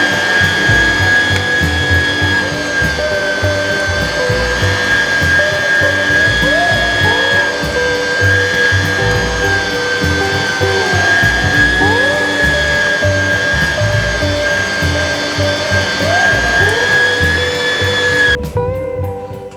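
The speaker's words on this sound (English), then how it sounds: "let's go ahead and turn on the grinder" An electric meat grinder runs with a steady, continuous whine while making homemade bratwurst, holding even for a long stretch before cutting off near the end.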